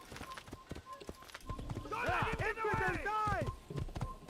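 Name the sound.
horse galloping in video game Assassin's Creed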